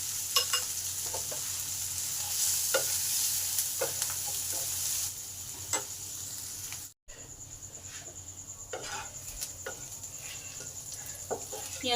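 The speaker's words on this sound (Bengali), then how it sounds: "এবার পেঁয়াজটাকে ভালো করে ভেজে নেব।" Finely chopped onions with salt sizzle in oil in a pan for a soya chunk curry, steady frying punctuated by repeated spatula scrapes and clinks as they are stirred, with a brief cut midway.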